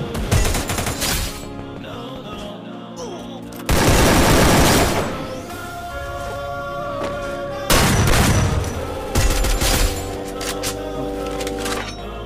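Loud bursts of rapid gunfire and booms from a Grandmaster ranked match in a shooter video game alternate with quieter stretches, over game music and sound effects.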